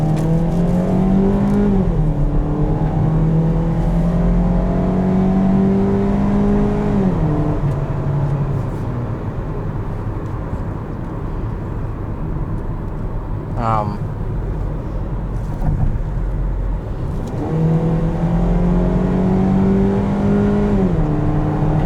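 A 2017 Jeep Compass High Altitude with its 2.4-litre engine accelerates hard from inside the cabin, engine note rising through the gears with drops at each shift and a brief click partway through, steady and loud.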